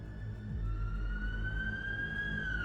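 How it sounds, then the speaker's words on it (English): A police siren wails steadily in a long sustained tone that sweeps slowly upward, heard at moderate distance over a low rumbling background hum. "I heard the police sirens"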